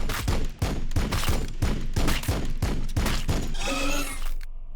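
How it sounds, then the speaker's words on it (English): Gunfire in Warhammer 40K Battlesector rings out as a steady volley of about a dozen heavy, evenly spaced shots, followed by a brief noisy crackle before it cuts off. "Firing on the enemy."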